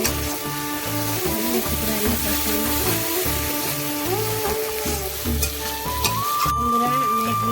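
Fish roe being fried and stirred with masala in a pan, a continuous loud sizzle of oil with repeated spatula scraping, while background music plays throughout.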